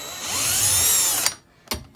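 A power drill backing square head screws out of a camper stove: a loud high-pitched whine that climbs steadily for over a second, then cuts off, followed by a short second burst.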